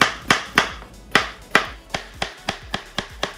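A knife chops two large zucchini into half-rings on a cutting board, about a dozen crisp, evenly spaced thuds that grow quicker toward the end.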